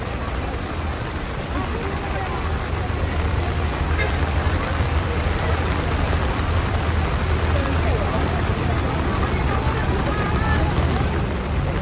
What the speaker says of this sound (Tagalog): Sa kabila po ng malakas na buhos ng ulan dito.